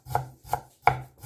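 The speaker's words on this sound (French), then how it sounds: "Hachez le gingembre, émincez comme ça, puis venez couper en julienne." A knife chops fresh ginger into julienne on a cutting board: four crisp, evenly spaced thuds close by, each with a short woody knock, with no talking.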